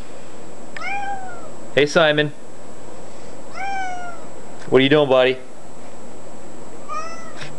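A whiny little girl cat meows repeatedly, several drawn-out rising-falling cries spread evenly through the clip, close and clear, with a voice speaking to it between the meows.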